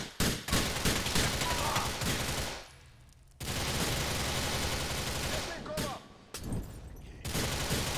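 Rapid gunfire during a shootout in GTA 4, dense bursts of shots rattling almost continuously with brief pauses, loud and close.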